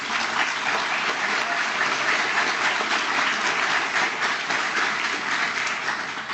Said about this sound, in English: I'd ask all of us to give them another round of applause